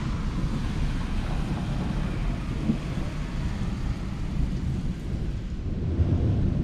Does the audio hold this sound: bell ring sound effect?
no